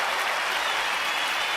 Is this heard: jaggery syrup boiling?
no